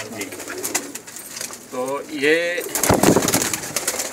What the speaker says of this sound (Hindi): ये कबूतर है, चूहा कबूतर है माशाल्लाह जी